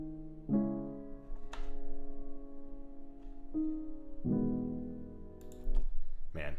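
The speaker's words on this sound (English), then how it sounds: "So that piano, all it was a Labs piano, and it actually had no processing on" A Labs piano with no processing plays sustained chords in a progressive house breakdown, struck in a few separate clusters, each ringing out and decaying over several seconds.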